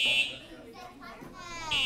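A fire alarm goes off during a city council meeting, its loud piercing electronic tone sounding at the very start and returning near the end, with chatter in the room between the bursts.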